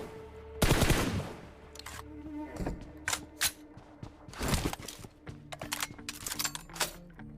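Rapid bursts of gunfire from the mobile battle-royale game PUBG Mobile, sharp loud volleys and single shots in irregular clusters, with no talk over them.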